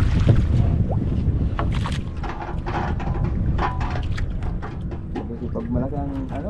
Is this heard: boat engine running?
yes